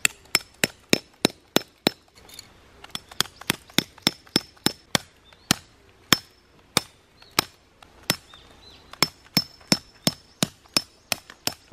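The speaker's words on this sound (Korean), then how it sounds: "이렇게 네 군데에 팩다운을 해줍니다" Tent pegs are hammered into stony ground, giving sharp, loud metallic strikes in quick, regular bursts with brief pauses between sets, close by and with no talk.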